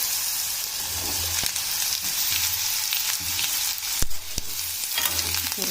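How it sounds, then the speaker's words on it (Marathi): Potatoes shallow-frying in oil in a home kitchen pan, a steady close sizzle running throughout with occasional stirring clatters and scrapes on top. "प्रथम आपल्याला बटाटे छान असे तळल्यासारखे करून घ्यायचे आहे।"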